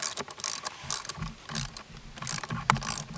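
A threaded brass hinge fitting with a 1-inch thread is torqued down by hand outdoors, producing quiet, close metallic clicking and ratcheting in short uneven bursts with faint scraping between turns.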